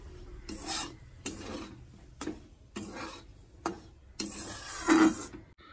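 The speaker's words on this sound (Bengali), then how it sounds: "এবার ভালো করে নাড়াচাড়া করে একটু ভাজা ভাজা করে নিতে হবে।" Spice powders are stirred and fried in a wok, heard as a series of rhythmic rasping scrapes of a spatula across the pan, about seven strokes, close and alone with a faint sizzle between.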